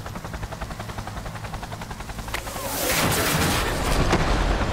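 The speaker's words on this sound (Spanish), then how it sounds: "A la mierda de helicóptero." A helicopter in the video game Cyberpunk 2077 whirs with a steady rotor throb that swells louder about halfway through, joined by sharp bangs and blasts of combat.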